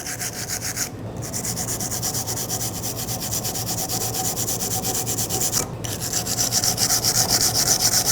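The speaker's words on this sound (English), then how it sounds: "Now you don't want to remove too much material by sanding it down completely, but you do want to clean off all the rust and debris." Sandpaper scrubs rust and debris off a Ford F-150 rear brake caliper bracket in quick, steady rasping strokes, close and continuous with two brief pauses.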